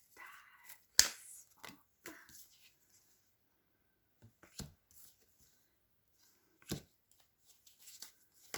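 Tarot cards are shuffled and handled in a few short, sharp riffles and snaps, separated by quiet gaps, close and fairly faint.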